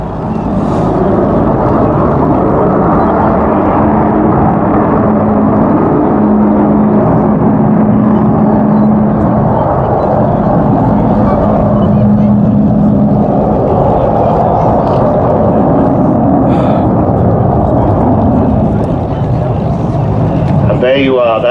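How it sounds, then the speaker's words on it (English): An Avro Vulcan bomber performs at the Duxford September air show, its jet engines giving a loud, sustained roar with a steady droning tone running through it for the whole stretch and fading slightly near the end. "There you are, that's the famous Vulcan howl."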